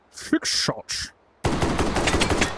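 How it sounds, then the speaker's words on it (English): Rapid gunfire from a Mateba Unica 6 .357 Magnum six-shot revolver, introduced in 1997: a brief run of sharp bursts first, then a dense, continuous rattle of loud close shots filling the second half. "you might recognize the Unica 6. Introduced in 1997, shoots 357 Magnum with six shots"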